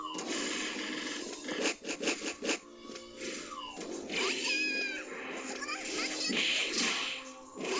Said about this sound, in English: And get cats thrown at you as well.